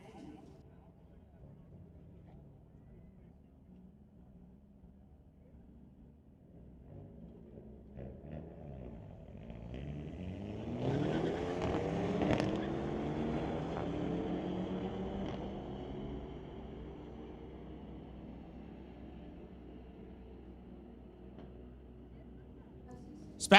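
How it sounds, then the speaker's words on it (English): A 2023 Hyundai Elantra and a 2014 Audi drag racing at a raceway, with engines rising from a low distant rumble to a loud revving pass that peaks midway, then fading. An announcer's voice is heard over the track noise. "2023 Hyundai Elantra going up against a 2014 Audi"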